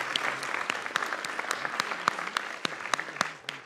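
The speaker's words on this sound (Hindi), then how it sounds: "इंडिया के लिए ताली।" Crowd clapping for India's T20 World Cup win over New Zealand, a steady mass of applause with sharp individual claps standing out throughout, moderately loud and without speech.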